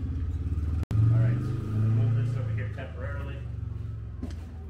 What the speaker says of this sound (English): There goes one of our vehicles.